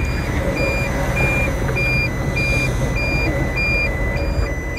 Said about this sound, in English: it's got a shallow warning, shallow water warning